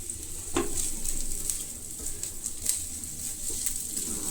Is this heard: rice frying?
yes